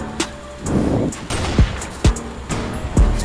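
Gunfire in the Roblox video game, several sharp, punchy shots fired in an uneven series of about five, close and loud over a low background hum.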